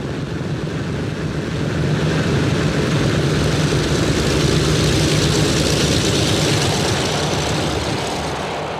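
A Douglas DC-6 four-engine propeller airliner rolls onto the runway, its radial engines giving a loud, steady, deep droning rumble that swells slightly and holds throughout, with no voices.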